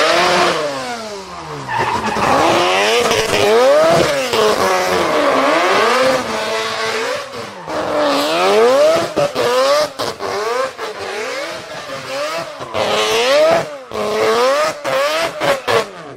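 Mazda rotary-engined drift car revving hard, its engine note sweeping up and down repeatedly through long rising and falling pulls, loud and close with tire skidding textures throughout.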